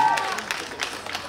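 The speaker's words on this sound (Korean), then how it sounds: "박수 한번 보내주세요" Audience applause at a live stage interview, a short burst of scattered clapping from a crowd that fades quickly, with a person speaking over it.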